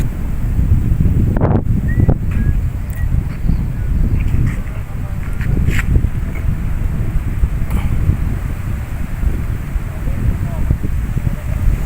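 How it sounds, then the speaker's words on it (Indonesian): Wind gusting over a reservoir lake at a fishing spot, a continuous low rumbling buffet on the microphone with a few brief knocks and clicks, and muffled voices in the background. "air waduk mulai bergelombang sedikit karena hembusan angin"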